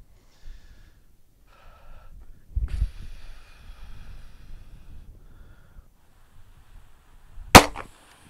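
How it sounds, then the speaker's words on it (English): Two sharp firearm shots at a Flinch training target on a range, a few seconds apart: the first is lower and thuddy, the later one a bright, loud crack, with faint handling noise in between. "I shot at the wrong dot, okay?"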